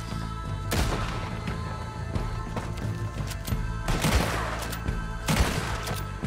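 Gunfire in the Western game Red Dead Redemption 2: several sharp, loud shots spaced irregularly across the stretch, with a quick cluster near the end, over a steady ambient bed and no speech.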